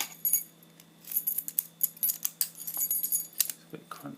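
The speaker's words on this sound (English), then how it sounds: "And show the keys working again." Keys turning and clicking in a cheap Montery padlock, a run of light metallic jangles and sharp clicks close to the mic, ending in a couple of firmer clunks, with no talking.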